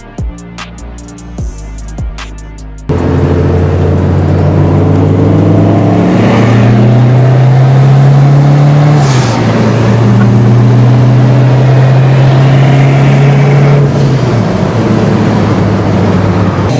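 A Fiat Coupe 16V Turbo engine starts with a few brief bursts, then settles into a loud, steady running drone that climbs in pitch as it revs, holds high, and eases back down near the end, with no talking.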